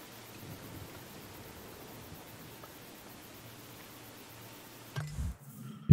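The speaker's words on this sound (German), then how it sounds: "Es regnet sehr stark" Heavy rain in the video game Endling: Extinction is Forever, a steady faint wash of downpour that runs for several seconds before a couple of louder, abrupt low thumps near the end.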